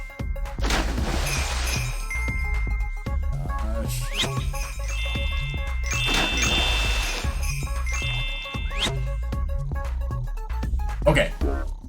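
In Toejam & Earl: Back in the Groove, the ice cream truck's bell rings in bright repeated jingles and dings over game music and effects, with crashes scattered through and no talking.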